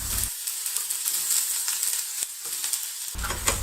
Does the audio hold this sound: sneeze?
no